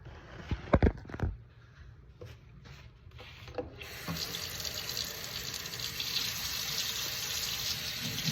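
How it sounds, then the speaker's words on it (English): Hands being rubbed together with a few light knocks at first, then a steady stream of water running from a tap into a sink while washing hands, fairly quiet and close. "What we're going to start out doing is washing our hands though."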